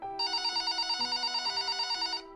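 A telephone on a desk rings with a bright, continuous electronic bell-like trill that warbles in steady pulses, loud and close with nothing else heard, stopping abruptly near the end.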